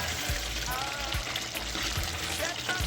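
Jamaican curry turkey wings cook slowly in a pot, giving a steady, soft sizzle and gentle bubbling that runs continuously at low volume with no pauses.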